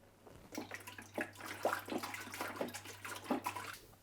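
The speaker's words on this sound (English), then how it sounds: "it says to swish the vinegar around the tank" Vinegar is swished around the plastic tank of a Levoit Classic 300S humidifier, producing close, irregular sloshing and gurgling splashes in quick succession over a faint low hum.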